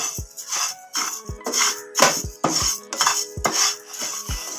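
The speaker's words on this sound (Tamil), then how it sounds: "இந்த 1 கிளாஸ் அரிசியை வறுத்துக்கலாம்." Dry rice being roasted in a pan and stirred with a utensil, giving repeated scraping, clattering strokes at a steady rhythm, close and fairly loud with no talk.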